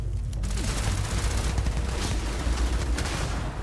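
Rapid gunfire in a Starfield gunfight, with dense overlapping bursts of shots and booms that run continuously at close range.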